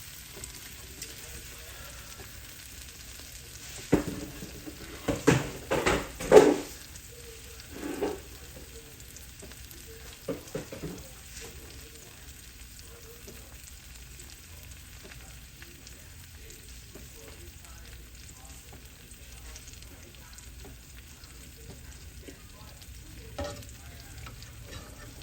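A grilled cheese burrito fries in a pan with a quiet, steady sizzle, and a cluster of louder clattering, scraping bursts comes early on before the sound settles back to a faint crackle.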